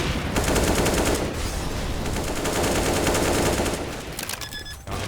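Gunfire spraying on the Mirage map in a Counter-Strike match, rapid continuous automatic shots rattling loudly for several seconds before tapering off near the end.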